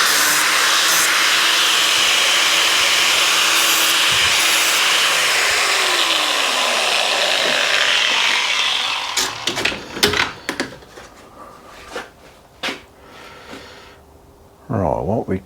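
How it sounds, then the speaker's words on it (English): Metal edge being deburred with a hand tool on a Suzuki GS motorcycle part: a long, loud, continuous grinding rasp that stops partway, followed by scattered knocks and clinks of handling. "Just take that burr off the other side."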